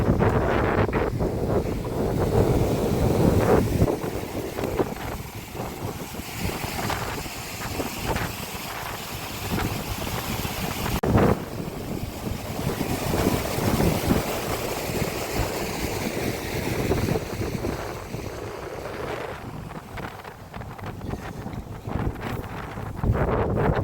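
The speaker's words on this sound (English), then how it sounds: "It is a little wet and windy today." Steady gusting wind on a wet, windy day in Wales buffets the microphone with a low roar, over a faint wash of water throughout.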